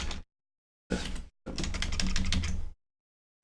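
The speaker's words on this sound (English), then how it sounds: "I started typing the word save instead" Bursts of typing on a computer keyboard during a game development livestream, two short runs of key clicks and then a longer steady flurry, close and clear, separated by silent pauses.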